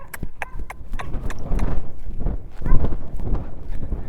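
A horse lopes outdoors under saddle, its rhythmic hoofbeats thudding close by in a steady three-beat pattern, with light wind noise and a little talk.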